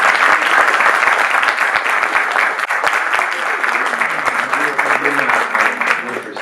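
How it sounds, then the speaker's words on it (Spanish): An audience at a law book launch claps in a sustained, fairly loud round of applause for the author, holding steady before easing off, with a voice briefly heard under the clapping near the end. "el doctor en Derecho Javier Tapia Ramírez, para quien también pido un aplauso."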